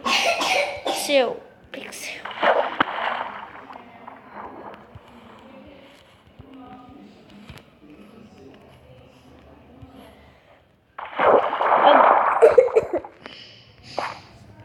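A person coughs loudly a few times at close range, with quieter breathy sounds in between and another burst of coughing later.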